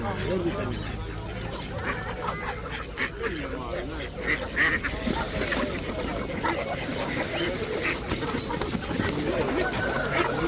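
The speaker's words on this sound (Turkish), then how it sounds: "gazlar burada, ördekler burada" Ducks and geese quack and honk at the Adana bird market, scattered calls beneath steady nearby talking and market bustle.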